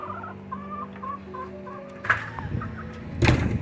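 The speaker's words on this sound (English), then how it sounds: "Chickens running around." Backyard chickens cluck and murmur close by in a steady run of short calls, followed by a few louder knocks and rustling.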